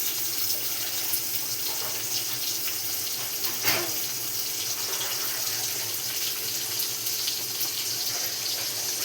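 Tap water runs steadily into a sink over freshly chopped spring onion greens being rinsed, a continuous close splashing flow with one brief louder splash midway and no voices.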